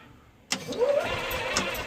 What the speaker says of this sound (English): barely hit the gas enough where the solenoid engages, but the engine just starts to turn over